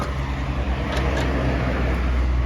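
A sixty-year-old Kubota L13G tractor's diesel engine runs in a steady, loud, continuous rumble close by, holding an even chugging drone with no pauses throughout.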